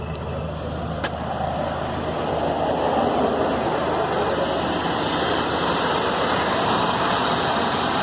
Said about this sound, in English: Okay, but the engine is running.